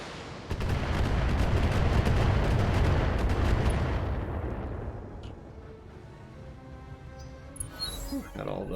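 A missile salvo slams into a mech in BattleTech as a dense rumbling barrage of overlapping blasts that swells for several seconds and then fades into a lingering low roar, with some talk at the end.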